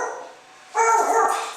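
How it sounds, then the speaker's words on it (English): A dog gives a short burst of barking, close and loud after a brief quiet moment, sounding like a single sharp bark that trails off into a whine. "my dog's about to start barking because they're cutting the grass outside"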